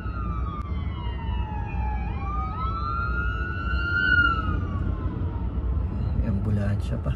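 A wailing ambulance siren rises and falls over steady traffic rumble, fairly distant and continuous throughout.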